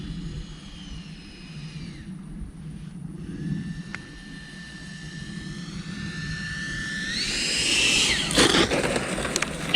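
A radio-controlled jet-style model plane comes in to land with flaps down, its steady high engine whine shifting pitch as it approaches, then a louder rush of noise near the end as it touches down and rolls out.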